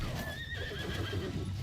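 A horse neighs within a video game battle, a loud whinny over rumbling game noise with clopping hooves.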